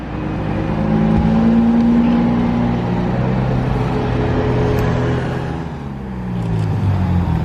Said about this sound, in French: Aston Martin DB11.